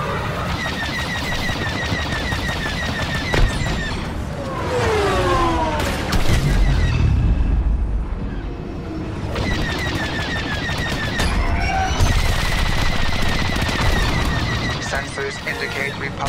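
A Star Wars Battlefront II starfighter assault over Kamino, flown in a TIE Advanced X1, fills the air with rapid blaster fire, whooshing passes and heavy booms, while a radio voice speaks over the din.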